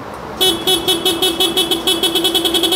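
Stock horn of a Yamaha Aerox V2 scooter sounds in a rapid series of short, bright honks, about a dozen toots in quick rhythm, loud and close with no talking.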